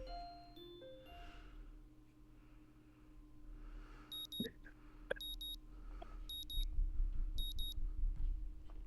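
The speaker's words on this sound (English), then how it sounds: "The sound of my alarm brings me out of a dream involving pirates and some other stuff I can't really remember." Repeated electronic alarm clock beeps from the Katawa Shoujo visual novel sound in four short, evenly spaced bursts over a soft musical background, with a low rumbling swell near the end.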